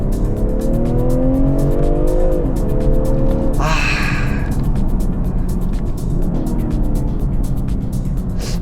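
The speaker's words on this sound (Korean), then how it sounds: "지금 이 차의 엔진 음색은 현행 나오는 6기통의 터보 엔진 중에서 가장" A BMW six-cylinder turbo engine revs steadily with rising and falling tones, loud and close, ending in a sharp burst of higher-pitched roar mid-way before settling into a continuous drone.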